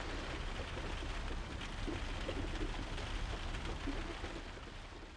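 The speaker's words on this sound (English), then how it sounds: "the patter of rain on the roof while you're in bed" Steady rain patters on a roof in a dense, even hiss of drops, fairly quiet and continuous with no voices.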